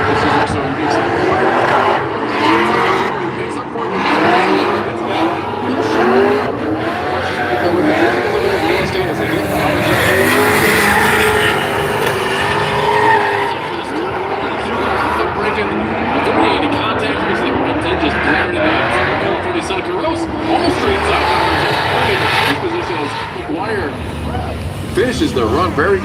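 A Mustang drift car makes a competition run at an event. The engine roars and the tires squeal, loud and sustained, while commentators talk over it throughout.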